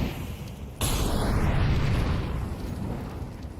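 A grenade goes off in mid during a competitive shooter match, one sharp blast followed by a long rumbling roar that slowly fades, with no talking over it.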